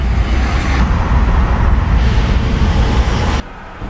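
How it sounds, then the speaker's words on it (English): New York City road traffic rumbles in a dense, continuous roar of passing cars and buses, loud and close, then drops off abruptly near the end. "New York City traffic."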